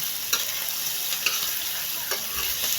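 Garlic sautés in a pan for dinugoan, a bright continuous close sizzle with several sharp clicks and scrapes of a stirring utensil.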